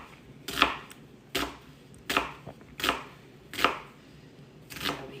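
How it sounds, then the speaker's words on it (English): A knife slices an onion halved into long strips for green beans, six crisp chopping strikes landing about every 0.7 seconds, close and distinct with quiet gaps between cuts. "I'm gonna cut it in half and do some long slices because since our green beans are long, we want our onions long too."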